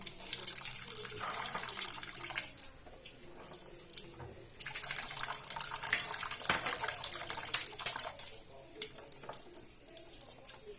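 Tap water runs steadily into a sink while tomatoes are washed, a continuous close gush with handling splashes, a brief pause midway, and faint talk in the background.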